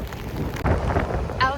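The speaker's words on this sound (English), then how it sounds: "As you can probably hear from the sound of the waves, I've made it back to Ventry Beach" A steady hiss of rain and surf washes over Ventry Beach, with gusty wind noise buffeting the microphone.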